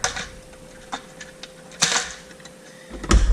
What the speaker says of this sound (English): Let's go ahead and clip that wire.